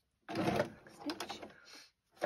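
A domestic sewing machine runs a quick burst to backstitch a dress seam, its close rapid whirring stitching slowing and stopping before a brief final burst.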